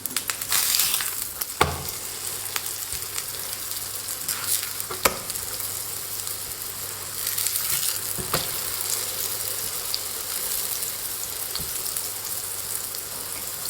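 A flatbread sizzles steadily as it pan-fries after being flipped, with a few sharp clicks and knocks over a constant close hiss. The sizzle swells in places and no voices are heard.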